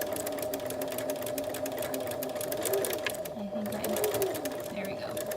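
A sewing machine hums steadily while back stitching through felt for a felt food piece, running continuously at close range. A voice talks over the motor throughout.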